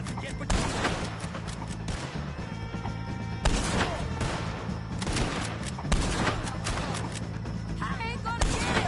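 Gunfire rings out during a shootout in Red Dead Redemption 2, loud sharp shots and volleys in irregular bursts with crashing impacts, while a voice shouts over the fighting.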